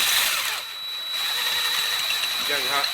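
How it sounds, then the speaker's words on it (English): A power drill whines at a steady high pitch as it bores 6mm holes through metal mudguard brackets for a Honda Deauville motorcycle, with a voice faintly underneath near the end. "Let the drill bit cut its way through."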